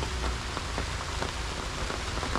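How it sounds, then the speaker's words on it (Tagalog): Steady rain falls on surfaces outdoors, a soft continuous patter with scattered heavier drops ticking through. "Umulan na po."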